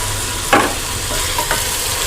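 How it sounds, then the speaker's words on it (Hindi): Ginger garlic paste and kadhi spices frying in a pan for kadhi pakora, a soft steady sizzle with a couple of brief stirring scrapes, close and alone without speech. "जिंजर गार्लिक पेस्ट को थोड़ा सा फ्राई करने के बाद इसमें ये कड़ी के सब स्पाइसेस ऐड कर दें"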